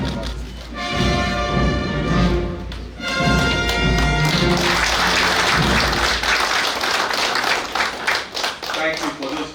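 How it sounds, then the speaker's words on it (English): Applause rises at a Nigerian Naval War College graduation ceremony, a dense, sustained round of clapping that follows a brief tonal passage at the start. "Thank you for those rounds of applause"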